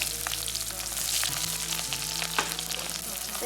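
Cumin seeds sizzle in hot oil at the start of a local-style mutton dish: a steady, close, bright crackle with scattered pops that carries on for the whole clip, no voices.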